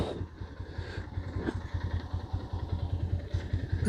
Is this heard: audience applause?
no